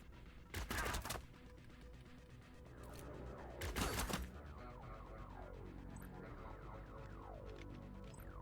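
Gunfire in the tactical game Cyber Knights: Flashpoint comes as two sharp, loud bursts of shots about three seconds apart over a low ambient hum, followed by quieter faint beeping game effects.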